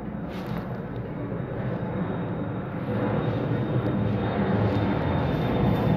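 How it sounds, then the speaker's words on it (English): Propeller airplane flying overhead during an outdoor flower painting session, a steady broad engine drone that grows slightly louder over six seconds, heard alone with no talking. "We're gonna wait for the plane again."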